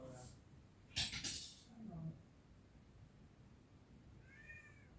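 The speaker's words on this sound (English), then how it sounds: "There's a cat." A domestic cat meows indoors: a short pair of calls early, then a fainter, thinner meow near the end, with light clinking in between and quiet room tone.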